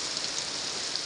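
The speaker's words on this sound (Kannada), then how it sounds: "ಎಲ್ಲ ಕಡೆ ಮಳೆ ಅಂತ ಬರ್ತಾ ಇದೆ" Steady rain falling during a monsoon downpour in Bengaluru, a continuous even hiss with no breaks or voices, moderately loud throughout.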